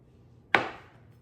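A knife chops once through boiled eggs, a single sharp cut against a board with a short decaying tail, alone in a quiet kitchen.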